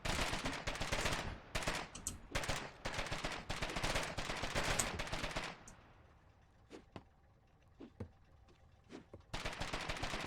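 Dense gunfire in the Foxhole war game rattles in rapid, loud bursts for several seconds, thins to a few scattered distant shots in a quieter lull, then resumes heavily.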